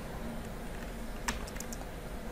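A handful of quick, light keystrokes on a computer keyboard as a shortcut combination is pressed, a short cluster of close clicks over a low steady hum.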